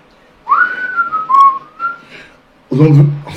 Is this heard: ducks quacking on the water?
no